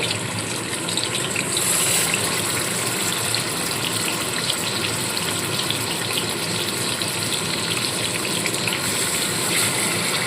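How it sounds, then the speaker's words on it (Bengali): Chicken leg pieces drop into hot oil in a kadai, raising a steady, dense sizzle that fills the whole stretch at close range and holds an even loudness throughout, with no voices present. "তেলটা গরম হয়ে গেছে এবার আমি লেগ পিসগুলো এক এক করে তুলে এই তেলের মধ্যে দিয়ে দেবো"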